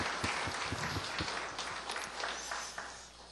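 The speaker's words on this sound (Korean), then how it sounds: "박수하겠습니다." A church congregation at an early morning service applauds in a brief, fairly soft burst of many hands clapping together, tapering slightly toward the end.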